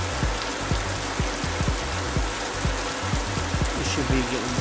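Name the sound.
heavy rain and hail storm heard while driving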